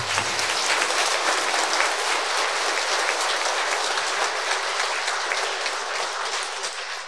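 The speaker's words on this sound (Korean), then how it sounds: "큰 박수 부탁드리겠습니다" Loud, dense applause from a church congregation at a Catholic parish farewell Mass for the priest, a sustained bright roar of many hands clapping evenly throughout with no speech.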